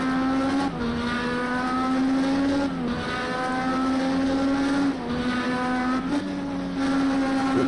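IndyCar engine from the Project CARS 2 racing game at Laguna Seca, a loud, steady high-revving drone that rises through the gears with brief dips at each upshift, running continuously and alone with no talk.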